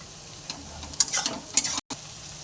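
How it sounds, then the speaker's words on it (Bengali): Cabbage frying for chow mein, a steady broadband sizzle with a few scraping stirs and spatula knocks over about two seconds, then a brief dropout. "এগুলো সব লাল লাল করে ভেজে নেবে। এরপর দিয়ে দিচ্ছে বাঁধাকপি।"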